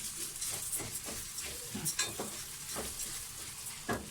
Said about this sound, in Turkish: Şimdi tuzunu da ilave edeceğim. Daha da zaten ilave yapmam. Şöyle hemen karıştırayım.